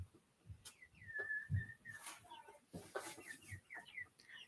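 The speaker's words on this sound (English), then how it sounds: "My chickens are super loud." Backyard chickens cluck and call in short, uneven bursts at close range, with whistle-like rising and falling tones and low thumps scattered between them.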